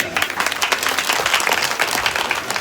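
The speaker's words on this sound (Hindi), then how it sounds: "इस बच्चों के लिए ताली बजाएं।" Crowd applause for the children at a Bhagavat Katha gathering in Himachal, brisk, dense clapping from many hands, loud and continuous throughout the short stretch.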